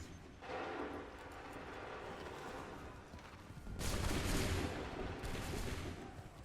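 Musket volleys in the Assassin's Creed 3 video game roll out as a dense, rumbling barrage, swelling louder after a few seconds and holding as a continuous crackling roar.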